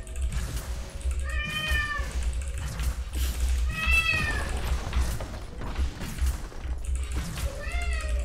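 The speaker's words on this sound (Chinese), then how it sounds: "啥都能接受就接受不了猫叫" Several drawn-out meows from a female cat, in repeated rising-falling calls at a moderate distance, heard over steady low background noise and faint game sounds during a League of Legends match.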